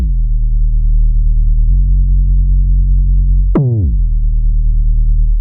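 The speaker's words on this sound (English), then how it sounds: "This distortion works very, very well with kick drums." A deep, sustained synthetic 909-style kick tone with gritty hard-clipped harmonics, holding steady, then a sharp pitch-dropping hit retriggers it midway; no voices.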